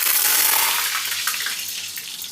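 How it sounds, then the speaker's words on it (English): Frozen fries dropped into hot oil burst into loud, close bubbling and sizzling, with spattering crackles that slowly settle into a steadier fry. "The oil will jump because it has some ice particles or water content in."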